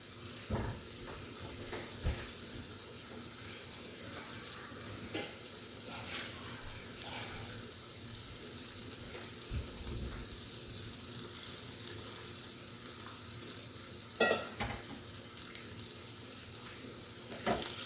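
Agathi greens (sesbania leaves) sautéing in a pan, a soft steady sizzle with occasional clinks and stirring scrapes, fairly quiet and without talk.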